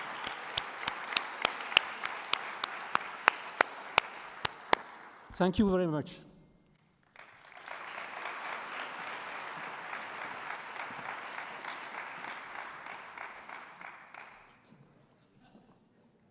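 Audience at a conference opening ceremony applauds, scattered sharp claps at first, then a brief voice of thanks, followed by a broad wash of steady clapping that fades out near the end.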